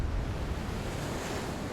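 Ocean waves in the TV series 1899, a continuous wash of surf and wind noise, fairly quiet and steady with a slight swell at the start, and no voices.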